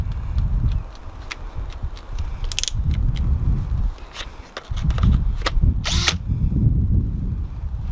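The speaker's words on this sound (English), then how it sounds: "Do you reckon it's a bit overload for the drill?" An electric drill fitted with a wire brush scrubbing seam sealer off a BMW E36 engine bay, loud and close, the motor whirring and rasping in uneven bursts with brief pauses and scraping clatter.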